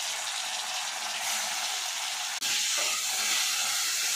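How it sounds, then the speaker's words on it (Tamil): Bitter gourd soaked in salt and turmeric, squeezed and frying in hot oil, giving a loud, continuous hiss and sizzle with a brief sharp break partway through. "இந்த எண்ணெயிலே நல்லா வறுக்கணும்."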